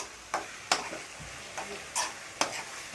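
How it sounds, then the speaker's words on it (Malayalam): Spices being stirred into chicken curry in a pan, a handful of distinct scraping strokes spaced through the moment over a faint sizzle, close and fairly quiet. "നല്ലപോലെ ഇളക്കി കൊടുക്കുക"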